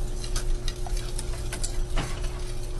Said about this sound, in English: Let's see if it's starting to simmer.